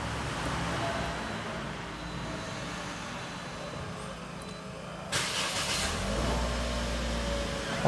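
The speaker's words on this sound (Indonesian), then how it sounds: "Oke, ini sudah nyala mesinnya." Push-button start of a 2012 Toyota Corolla Altis G automatic: quiet interior hum, then a sudden burst as the engine cranks and catches at about five seconds, settling into a steady idle.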